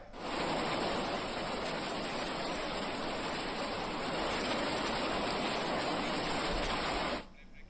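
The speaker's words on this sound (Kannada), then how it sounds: "ದೆಹಲಿಯಲ್ಲೂ ಕೂಡ ಸತತವಾಗಿ ಮಳೆ ಆಗ್ತಾ ಇದೆ" Heavy rain pours steadily onto a tarpaulin at Delhi airport, a loud dense roar that holds constant for about seven seconds and then cuts off abruptly.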